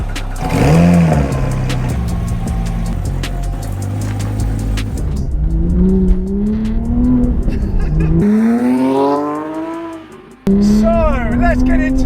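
A 250 GT car drives along, its engine revving through several rising gear pulls with a throaty, close-up note, one brief dip between shifts, and a voice speaking over the engine noise.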